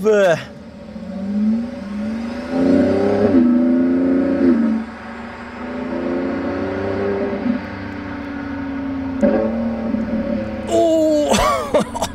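A black Lamborghini Urus with orange calipers and a raised wing passing on the road, its engine rising and falling in a drawn-out revving sweep nearby, with voices talking over parts of it.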